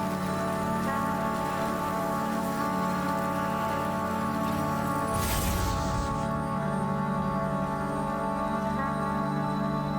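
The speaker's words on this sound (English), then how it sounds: "Is it raining the whole way?" Steady rain pours down in the video game Death Stranding, a constant dense patter that fills the scene evenly from start to finish, with a brief louder rush partway through.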